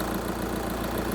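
A 2010 VW T5 van's 2-litre diesel engine, replaced about 100,000 km ago and now burning oil, idles steadily up close with an even low rumble and fast ticking knock, no voices.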